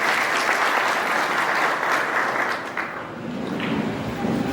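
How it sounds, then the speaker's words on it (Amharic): A church congregation claps together in sustained, dense applause that fills the space steadily and dips slightly before continuing. "እስቲ አንድ ጊዜ ሪችንና ሊቾን እግዚአብሔር ይባርካችሁ ስትሉ አጨብጭቡ።"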